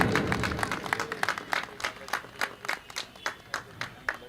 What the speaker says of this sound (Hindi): एक बार जोरदार ताली जरूर बजाएं।